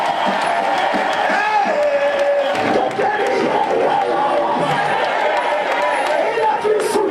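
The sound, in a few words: congregation cheering and acclaiming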